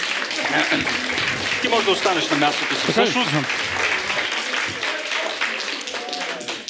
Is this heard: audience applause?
yes